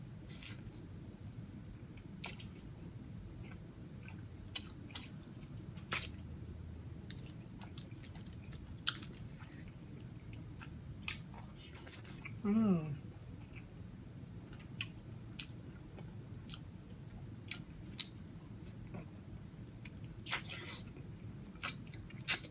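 Someone eats adobo chicken by hand at close range, with soft wet chewing and small bites against a low steady background and occasional sharp clicks. A brief vocal hum is heard midway.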